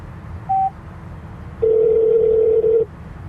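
A short single beep, then a longer steady electronic tone lasting over a second, an OnStar call connecting in a car, clear and close with no talking.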